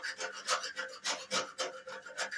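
A paint scraper rasps old paint off a wooden door in quick repeated strokes, about eight close, scratchy passes in steady rhythm.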